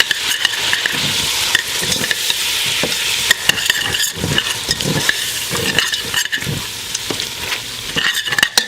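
Shrimp sizzle steadily in a pan of butter sauce, a loud continuous fry with stirring clatter and scraping throughout, heard up close with no talking.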